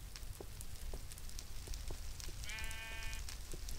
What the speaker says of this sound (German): Ich höre Schafe. Wo sind hier Schafe?